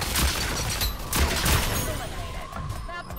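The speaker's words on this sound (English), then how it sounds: "That was a fucking pistol" Pistol shots in a video game firefight, several sharp cracks with a burst near the start and another cluster mid-clip, fairly loud over a busy background of game noise and a voice.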